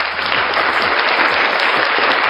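A studio audience on a talk show breaks into dense, sustained applause, loud and close, with many hands clapping continuously and no speech over it.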